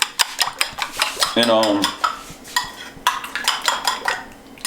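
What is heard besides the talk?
mixing breakfast ingredients with black pepper in a bowl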